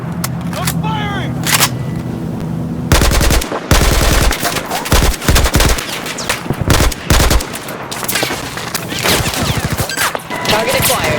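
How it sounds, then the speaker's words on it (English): Automatic machine gun fire in the Battlefield 4 shooter game, loud rapid bursts starting and stopping over several seconds amid explosions and game effects, with voices calling out briefly between shots. "I'm firing!"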